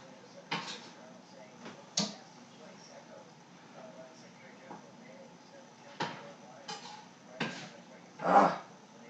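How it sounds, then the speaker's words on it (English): A knife roughly chopping fresh tomatoes on a cutting board, several scattered knocks spaced a second or more apart, fairly quiet in a still kitchen, with a louder thud near the end. "Tomatoes. Let's go give those a little rough chop."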